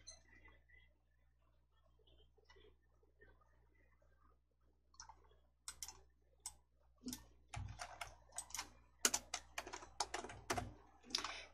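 Typing on a computer keyboard: quiet scattered clicks at first, then a faster burst of crisp, close keystrokes, ending in a heavier key press.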